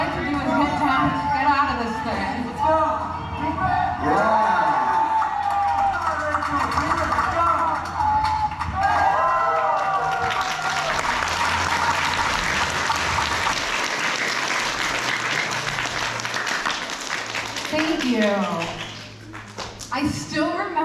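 A large crowd cheers and applauds, loud and sustained, a dense wash of clapping and shouting that swells and then fades out near the end.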